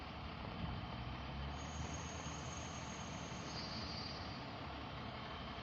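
An excavator engine runs at a steady, throaty drone with a thin high whine rising partway through. The sound is moderately distant and fairly quiet, and no one talks over it.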